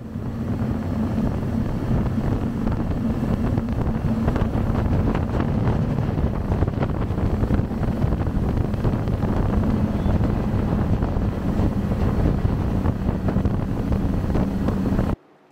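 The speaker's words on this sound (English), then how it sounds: "this is what 1800 horsepower sounds like underway" Mercury Marine 600hp V12 outboard engines, three totalling 1800 horsepower, running underway on a boat, a steady loud engine drone with heavy wind and water rush throughout, cutting off at the very end.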